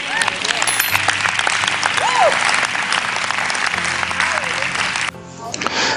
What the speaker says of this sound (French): Si tu es d'accord avec moi, acclame au nom de Jésus-Christ